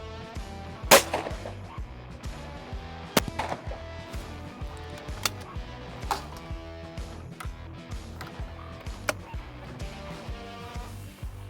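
A Zoli Krono shotgun fires at sporting clays, its shots coming as sharp, fairly distant cracks spaced a few seconds apart over a steady background music bed.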